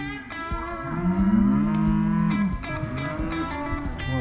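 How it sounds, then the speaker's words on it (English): Mashona cross cattle, weaned calves, moo loudly and close, one long low bellow overlapping others in a herd, with calls continuing through the stretch. "Come on, cows."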